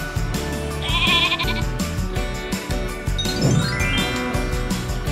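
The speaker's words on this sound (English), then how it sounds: "This is a sheep." A cartoon sheep on a farm gives a bleat partway through, set against bouncy children's music with jingly tones throughout.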